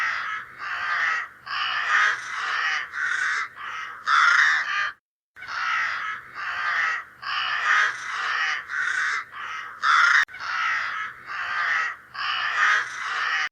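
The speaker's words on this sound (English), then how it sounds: "A crow caws." A crow caws in long runs of harsh, repeated calls, loud and close, with one short pause midway and no other sounds.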